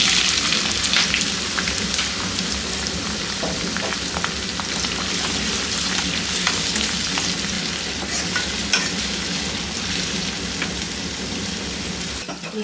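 Two medium chopped onions sizzle in hot oil in a pan while cooking tomato curry, a loud steady crackle and hiss with scattered pops and occasional stirring scrapes, with no one talking.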